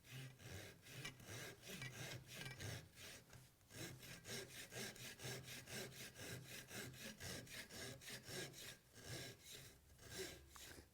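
Flexible flush-cut saw trimming pocket hole plugs flush with a wood surface, a close, continuous run of quick rhythmic rasping back-and-forth strokes with only brief pauses.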